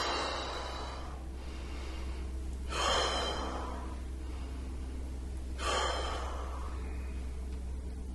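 A deep breath drawn in during a tai chi Grasp the Bird's Tail breathing exercise, heard as two long, audible airy inhalations a few seconds apart over a steady low hum, fairly close and quiet.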